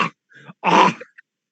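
Voice imitating a coyote gagging: a short, raspy, throaty retch broken into a few quick bursts, close and fairly loud.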